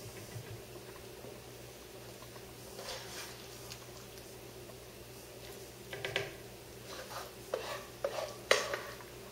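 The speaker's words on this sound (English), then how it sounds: "you take the roux and you are going to add it into the broth, and you are going to whisk it in" Roux being whisked into chicken pot pie soup broth in a pot, a soft steady stirring with light metal clinks of the whisk against the pot, growing more noticeable toward the end, with no talking.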